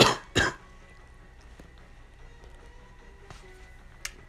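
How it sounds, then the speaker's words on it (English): Two harsh coughs burst out close together at the start, then fade into a quiet low hum of room noise, with a faint click near the end. "coughing up a bit of blood."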